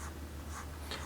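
A graphite pencil scratches steadily across paper while sketching an eyelid, a close, continuous soft rasp with slight pulses from the strokes.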